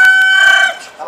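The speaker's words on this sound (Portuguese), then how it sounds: "Cala a boca, o galo canta." A rooster crows once, a loud close drawn-out call that tails off within a second, heard in a suburban backyard.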